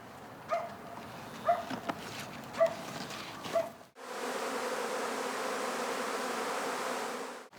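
Honeybees buzz steadily at the hives of migratory beekeepers, a dense, continuous drone that swells in the second half after a few brief louder sounds near the start.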